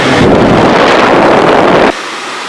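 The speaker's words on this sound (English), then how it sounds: "The blower motor is probably ruining the audio" A car's AC blower motor runs on high with the air conditioning on recirculation, giving a loud, steady whooshing rush of air that cuts off abruptly near the end.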